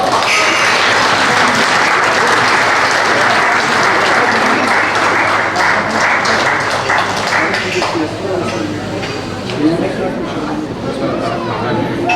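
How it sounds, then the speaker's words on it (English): Enthusiastic crowd applause at a book launch in Melbourne, Australia, loud continuous clapping from a large audience with chatter and voices mixed in, thinning slightly toward the end. "please give them a big round of applause"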